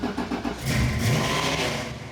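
A classic car's engine rumbles steadily at close range, a low mid-pitched drone that swells slightly as it revs, with no voices.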